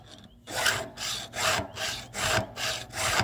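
A round file held in a bench-mounted Stihl FG2 file guide scrapes across chainsaw chain teeth in steady, rhythmic rasping strokes, about two per second, close and clear with no talk.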